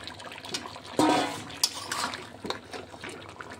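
Potato pieces tipped into a pot of browning meat for a Bengali dish, a brief wet clatter and splash followed by a few softer knocks and scrapes of a utensil, close by.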